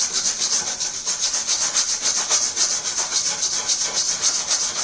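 A bicycle disc brake rotor is held tight and rubbed on sandpaper. It makes a steady, gritty scraping in quick back-and-forth strokes, close and alone.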